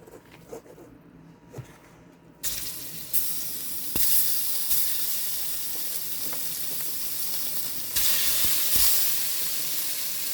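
Skin-on salmon fries in hot, lightly smoking oil in a frying pan, giving a steady close sizzle and crackle that swells louder partway through and keeps going on its own.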